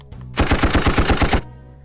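A gunfire effect from a Kesesi K10 live-streaming sound card plays a single close, loud machine-gun burst of about nine rapid shots standing alone.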